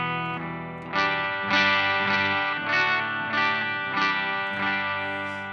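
Clean Gibson Murphy Lab electric guitar on the neck pickup, playing sustained chords that ring out in several strummed swells, warm rather than bright, with no voice.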